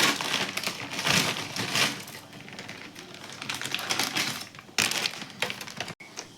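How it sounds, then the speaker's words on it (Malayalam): A block of Maggi instant noodles is snapped into pieces by hand, producing a series of dry, crunchy cracks and brittle crumbling bursts up close. "നമുക്ക് മാഗി പൊട്ടിക്കാം."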